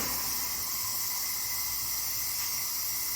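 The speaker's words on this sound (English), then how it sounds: "You notice the steam is getting less." Steam hisses steadily from a T-Fal pressure canner processing venison, a constant broad, airy rush that stays loud and even throughout without pauses.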